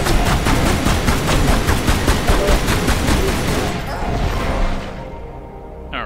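Rapid, sustained weapon fire from Tomb Raider: Anniversary rattles loud and close as gorillas are shot in Midas' Palace, Greece. The dense barrage runs for about four seconds, then thins out and fades.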